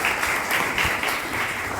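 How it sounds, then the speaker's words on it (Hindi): An audience at a motivational stress-free-life session claps in sustained, dense applause that stays fairly loud and even for under two seconds, with no one speaking over it. "एक बार ताली बजाओ यार।"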